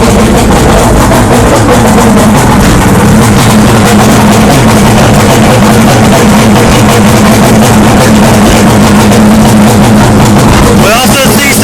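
A two-stroke outboard engine runs steadily after its oil system has been primed, a loud continuous motorboat drone with a low hum held throughout, close to the listener.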